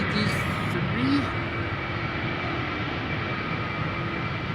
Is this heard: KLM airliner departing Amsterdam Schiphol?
yes